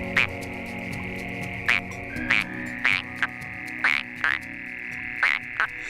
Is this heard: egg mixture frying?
no